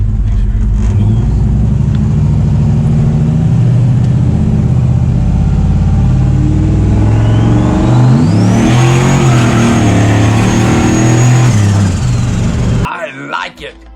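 Chevy OBS turbo truck engine revving loudly while warming up, a steady throaty idle swelling into higher revs with a rising turbo whine before cutting off abruptly near the end.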